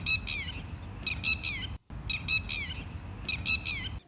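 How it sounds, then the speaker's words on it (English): Harsh, loud alarm calls from a ground-nesting bird guarding its nest repeat in quick bursts, two clusters of rapid squawks separated by a short pause, close and insistent. "The parents are extremely alert and give loud alarm calls"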